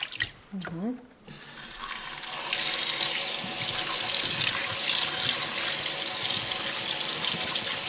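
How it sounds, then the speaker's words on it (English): Tap water runs steadily into a kitchen sink while menudo tripe is rinsed under it; a short voice comes first, then the loud, even gush of running water fills the rest. "Just rinse your menudo well. Take you about 45 seconds, move it around."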